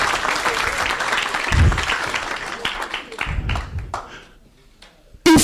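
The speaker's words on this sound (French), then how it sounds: "On acclame la parole du Seigneur." A church congregation applauds in a burst of clapping that swells and then tapers off, with voices mixed in.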